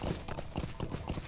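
Horse hooves clip-clop in a steady, rhythmic gallop while riding across fields in the game Lord of the Rings Online. The hoofbeats are loud and evenly spaced over a constant dense background.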